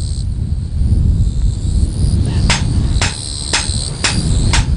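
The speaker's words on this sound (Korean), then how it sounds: "쇠 두드리는 소리에" A blacksmith strikes iron at a traditional village forge on Anmyeondo, sending sharp metallic hammer blows in a steady, evenly spaced series over a loud, constant background hiss.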